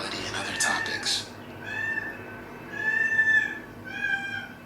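A female cat in heat gives several drawn-out, yowling meows indoors, loud and close, spaced across a few seconds with brief pauses between calls.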